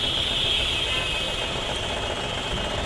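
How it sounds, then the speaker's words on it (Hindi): A Maruti Suzuki WagonR K-series engine idles unevenly with a misfire from a dead first cylinder, a steady close rumble carrying a high whine throughout. "गाड़ी फर्स्ट सिलेंडर की वजह से दिक्कत आ रही है, मिसिंग कर रही है।"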